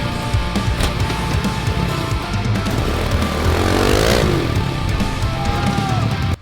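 A motocross motorcycle engine roars loud and close on a small dirt track, a steady buzzing drone that rises in pitch around the middle and falls again, with no talking.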